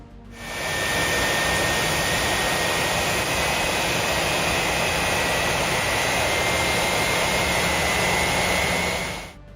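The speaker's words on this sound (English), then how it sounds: "This was the first launch of the newly installed PW4168 engine." Newly installed Pratt & Whitney PW4168 jet engine on its first run: a loud, steady roar with a high whine on top, rising in quickly and holding evenly for several seconds before cutting off.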